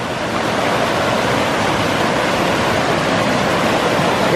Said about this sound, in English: Here's that same waterfall